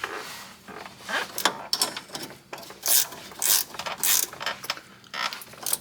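A hand ratchet tightens bolts on the steering of a Jeep XJ, sending out close, loud bursts of rapid pawl clicking in repeated strokes with short pauses between them.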